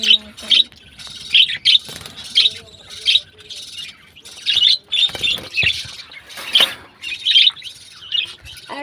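Pet yellow birds in an indoor colony chirp close by at morning feeding time, bright short tweets repeating in quick bursts every half second or so, with faint movement noises in between.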